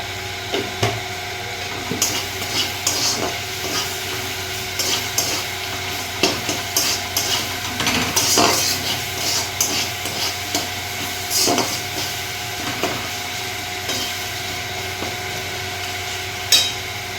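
Tomatoes frying in a pan for a soyabean and potato vegetable dish, with a steady sizzle and intermittent scraping and clacking of a stirring spoon throughout.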